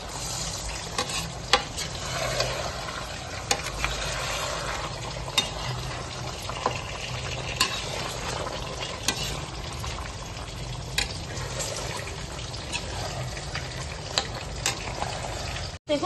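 Mutton stirred and sautéed in a pan, with a steady close sizzle and frying crackle and repeated scraping clicks of a utensil against the pan throughout, and no talking.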